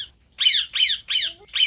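Parrots in a large open aviary with plants give four loud, harsh squawks in quick succession, close by, with brief pauses between calls and no talking.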